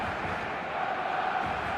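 Stadium crowd noise from the eFootball video game, a steady dense roar of many voices with a faint high whistle-like tone, continuous and fairly soft throughout.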